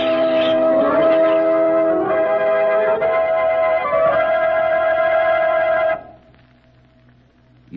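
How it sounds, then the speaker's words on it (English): Church bells in a radio drama of the Pied Piper of Hamelin, townspeople ringing the steeple bells: a loud, dense peal of sustained, overlapping bell tones with effects-style echo that stops abruptly near the end, leaving faint quiet. "You should have heard the Hamelin people ringing the bells till they rocked the steeple."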